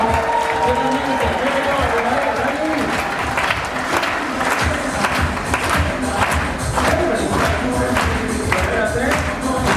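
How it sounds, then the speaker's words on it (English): A comedy and magic show audience claps along to music, with a rhythmic crowd clapping pulse over a musical backdrop and some voices and shouts mixed in. "Let's make it sound like a party for him and clap along to the music."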